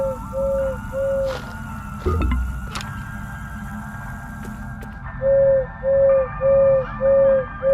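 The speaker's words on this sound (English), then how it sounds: "Hooting and hollering, it seems like it hoots 5 times and then stops." An owl-shaped bell in the video game Crow Country hoots in short, evenly spaced low tones, two at first, then a pause filled with ambient game sounds, followed by a run of five hoots.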